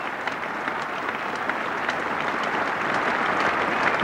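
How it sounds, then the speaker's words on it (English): Sustained crowd applause at Lord's for Jack Russell reaching fifty in his first England Test against Sri Lanka in 1988, a dense, even clapping from a large distant crowd, steady throughout. "Applause for Jack Russell."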